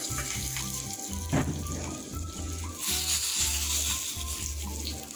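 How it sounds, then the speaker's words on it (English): Hot Indian-style non-vegetarian risotto sizzles and splutters at boiling heat in a pot, a steady crackling hiss with a sharper burst partway through, close and fairly loud, no talking. "It splutters a lot since this is boiling hot"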